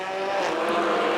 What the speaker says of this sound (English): Zheng Shengguan sliding around the hairpin, but manages just about to keep it together.